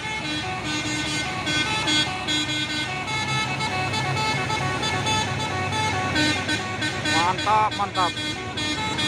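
A truck on a hill climb sounds a telolet horn in quick melodic toots near the end, over loud engine rumble and passing traffic, while onlookers talk and cheer.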